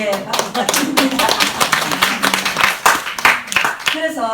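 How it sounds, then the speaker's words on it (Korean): An audience at a talk gives a quick round of applause, heard as close, crisp hand claps in an uneven patter mixed with a speaker's voice. "박수 부탁드립니다"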